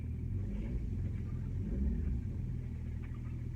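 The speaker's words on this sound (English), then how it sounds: "Lovely motor. Started straight up as well" Classic Rolls-Royce engine idling steadily just after starting, a deep continuous rumble with a low throb throughout, close and fairly quiet, no voices.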